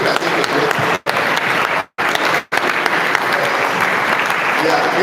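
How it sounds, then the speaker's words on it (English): Audience applause at a Human Capacity in Agricultural Service event, a dense, steady wash of clapping at full loudness, broken by a few abrupt short silent gaps. "Please clap for them."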